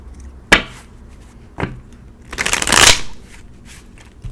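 A deck of tarot cards is handled with two short riffling snaps, then a longer, loud shuffle that whirs through the deck, close up and without speech.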